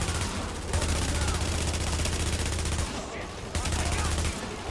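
Sustained automatic gunfire rattles in The Division video game during a close, cramped firefight, loud rapid bursts broken by a short pause, with no talking over it.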